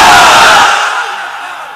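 A large crowd of married men at a religious gathering roars the takbir response Allahu Akbar in one loud, massed shout that swells at once and then fades away over a second or so.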